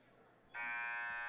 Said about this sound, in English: And that's the buzzer to start